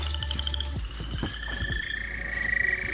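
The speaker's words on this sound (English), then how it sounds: "Yeah, you can hear the frogs." Frogs croak in repeated short calls at night beside a rain-flooded pond, against steady low background noise, with insect-like tonal chirps and buzzing mixed in.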